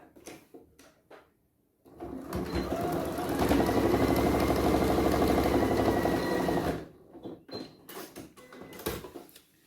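Sewing machine running steadily for about five seconds as it stitches two fabric tops together with a centimetre seam allowance, a loud continuous mechanical whir framed by quieter handling clicks before and after.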